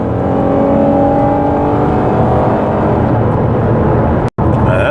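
A Ford Police Interceptor Utility in pursuit mode accelerates hard, its engine roaring loud and steady for several seconds, with a brief dropout near the end before the engine noise resumes.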